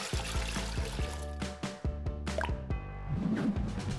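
Water mixed with glycerin trickles and drips into a container, a run of close, distinct drops and splashes that turns into a fuller pouring gurgle near the end, with no talk.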